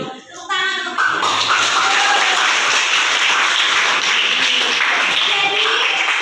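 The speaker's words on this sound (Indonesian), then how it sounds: "Tepuk tangan untuk" Classroom applause fills the room after a teacher's lesson on the eling-eling dance, a dense, steady burst of many hands clapping that starts abruptly after a brief voice and continues loud and unbroken to the end.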